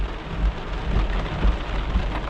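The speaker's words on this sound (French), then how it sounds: "C'est de la pluie." Heavy rain pours down during a violent thunderstorm in Maine, USA, a dense loud roar of drops drumming on surfaces with low rumbling thumps underneath, close and continuous with no voices.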